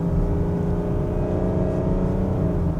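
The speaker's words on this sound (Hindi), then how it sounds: "तो देखो कुछ ऐसा साउंड करता है इसका डीजल इंजन" Diesel engine of a Mercedes GLS AMG Line SUV heard from inside the cabin after a paddle-shifter downshift, a steady loud low drone with a constant hum, no talk over it.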